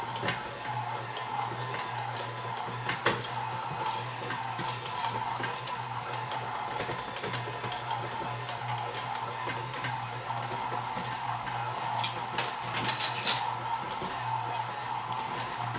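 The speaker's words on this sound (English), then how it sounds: "we're just going to let that mix up on this mixing paddle just enough to get it mixed up" Stand mixer turning a mixing paddle through white bread dough of flour, butter and salt, giving a steady continuous motor whir with a few brief clicks and knocks near the end.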